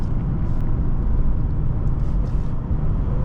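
Engine of a 2006 Lexus IS250 sedan responding to throttle on a road drive, a steady dense low rumble heard from inside the cabin, loud and continuous without talk.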